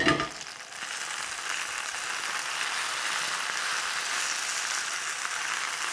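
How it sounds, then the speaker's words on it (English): Handfuls of baby spinach sautéing in olive oil with salt in a hot pan, a steady close sizzle that flares briefly at the start, then holds even, with no talking. "I'm just gonna saute that up"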